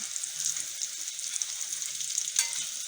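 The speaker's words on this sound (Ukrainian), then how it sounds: "От мої котлетки на маленькому огні." Stuffed meat cutlets fry gently on low heat, a steady soft hiss of sizzling oil with a faint crackle near the end.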